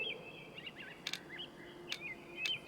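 Bird calls in the hunting game Way of the Hunter: a series of quick chirps and warbling tweets sound against a steady outdoor ambience, broken by a few sharp clicks.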